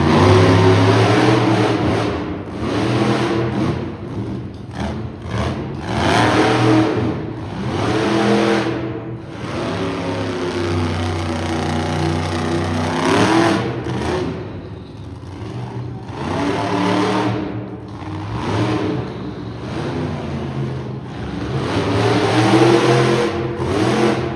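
A monster truck engine revs hard at an arena motorsports show in Edmonton during a Best Trick competition, its loud roar rising and falling in repeated surges that run continuously for the whole stretch.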